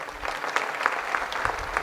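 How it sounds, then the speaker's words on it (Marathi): An audience at a kirtan in Pandharpur breaks into brief, rhythmic clapping, moderately loud and steady with evenly spaced claps, with no talking over it. "थोडी टाळी वाजवा"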